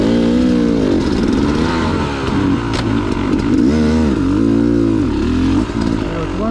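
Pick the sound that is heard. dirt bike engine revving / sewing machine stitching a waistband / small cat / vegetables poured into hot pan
dirt bike engine revving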